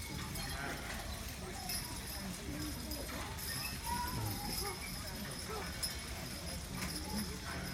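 Team of draft horses pulling a plow in a twelve-horse hitch, hooves clopping steadily at a middle distance with harness jingling, under someone talking over the scene outdoors.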